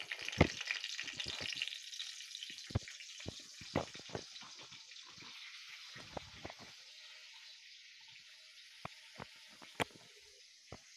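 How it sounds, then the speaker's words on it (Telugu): Green chillies sizzle and crackle in hot oil in a pan, a steady soft hiss broken by sharp pops and spits, fairly close and quiet. "ఆయిల్ వేడైపోతుంది. ఇప్పుడు చిల్లీ వేసుకుంటున్నాము"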